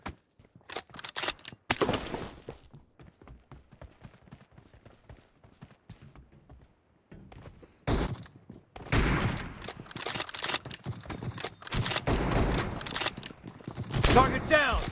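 Sniper rifle fire in a team deathmatch video game: loud sharp shots and bursts, clustered at the start and again in the second half, amid in-game callouts and clatter.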